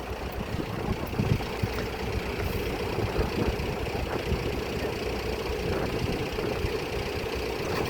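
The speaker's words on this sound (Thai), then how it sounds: "รถไถมาถึงครับ" A farm tractor's heavy engine idles steadily with a low, knocking chug, continuous and fairly close, with faint outdoor noise around it.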